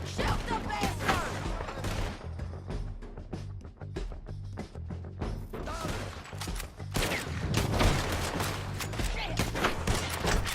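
Gunfire in a Red Dead Redemption 2 shootout, with a dense, continuous fusillade of overlapping shots and rapid volleys, loud and close, running under muffled shouting voices.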